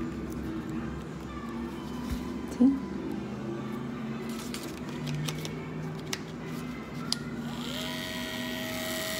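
An Andis Pulse ZR II dog grooming clipper runs after its blade drive assembly is replaced, giving a quiet, steady motor whine broken by a few soft clicks and taps.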